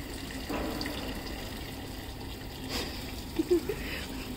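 A Samsung automatic top-loading washing machine takes in water from below, a soft steady gush and trickle running into the drum under a low hum, with a few brief clicks and splashes toward the end.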